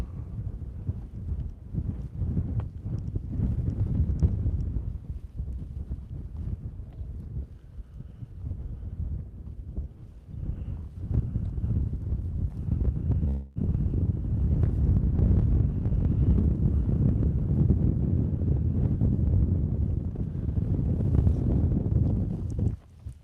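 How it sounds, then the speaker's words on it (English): Strong wind at the West Bar canyon overlook buffets the microphone with a continuous low roar that gusts and swells louder through the second half. "I'm pretty close to the lip now, so the wind is a little stronger."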